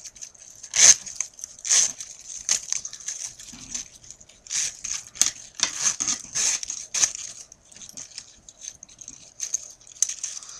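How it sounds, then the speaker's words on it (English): A homemade Mobius strip built from three zippers being unzipped, giving repeated short ticking and rasping bursts of zipper teeth, close and fairly loud, pausing and resuming irregularly with no talk. "And as I unzip it"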